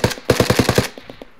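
Rapid automatic gunfire in a video game shootout: a quick string of about eight loud, evenly spaced shots, a brief pause, then a few fainter, sparser shots trailing off, heard alone without voices.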